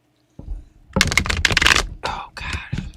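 Tarot cards shuffled by hand: a sudden start, then bursts of riffling and scraping card noise in several quick, uneven runs, close and fairly loud.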